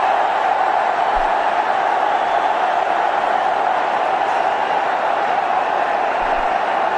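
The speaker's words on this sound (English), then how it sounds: "The crowd is really enjoying." Cricket stadium crowd at a one-day international, a steady, dense roar of cheering spread evenly throughout, with broadcast commentary faintly under it.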